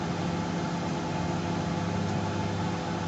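A microwave oven runs steadily while heating crushed eggshells, a continuous even hum with a faint fan-like whir and no voices, loud and close throughout.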